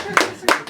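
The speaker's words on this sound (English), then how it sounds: "Put your hands together." Two sharp, close hand claps land about a third of a second apart, followed by the start of a third, with background room noise between them.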